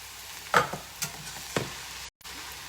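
Noodles sizzle as they hit a hot bowl in a home kitchen, a few short crackling bursts that fade quickly over faint background hiss.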